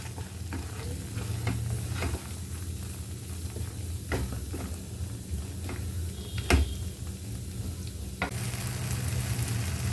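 Food roasting in oil in an open pan, a continuous close sizzle broken by the scrape and tap of stirring every second or two, with no talking.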